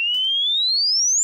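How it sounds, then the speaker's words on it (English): Self-oscillating resonant lowpass filter on a Behringer FiltAmp 1006 producing a pure sine tone that glides steadily upward in pitch, loud and clean, with a brief faint noisy burst near the start. "At full resonance setting, filters often self-oscillate, so they become a sine wave oscillator and output their own sound even without any input."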